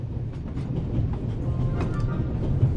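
Train rolling along rails in the video game The Raven Remastered, a continuous low rumble with rhythmic clatter of wheels, heard steadily and fairly loud with no talk.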